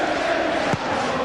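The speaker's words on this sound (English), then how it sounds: "joining in the applause for the opening goal at Selhurst Park." Football crowd at Selhurst Park applauding Everton's opening goal, a dense, continuous wash of clapping and cheering from a large stadium audience, heard at a distance and steady throughout.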